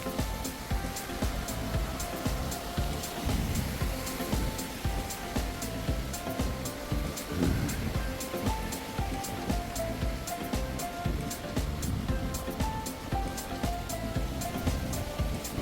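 Spring water gushes steadily at a roadside spring on Ulleungdo island, a continuous loud rushing and splashing with wind, unbroken for the whole stretch and with no voices.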